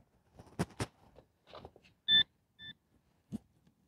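Two short electronic beeps from a Minelab metal detector sounding on a buried target outdoors, separated by soft handling noises and rustling, with no talk.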